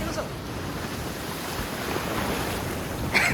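Strong ocean waves at Sandunes beach in Pondicherry roll in as a steady, loud, broadband wash of surf mixed with gusting wind buffeting the microphone, continuous throughout, with a faint sharper splash near the end.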